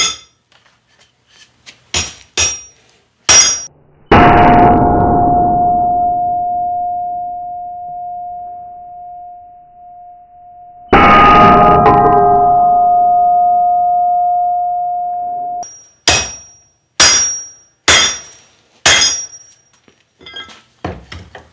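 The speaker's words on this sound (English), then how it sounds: "I'm gonna give it a few whacks as hard as I can, stress test it" Forged steel holdfast struck hard on an anvil with a hammer: sharp metallic clanks, two long bell-like ringing tones that slowly decay, then a series of quick close ringing strikes.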